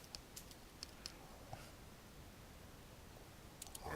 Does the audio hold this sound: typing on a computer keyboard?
yes